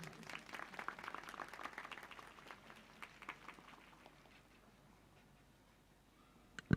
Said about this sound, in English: A round of applause for Miss Jennifer.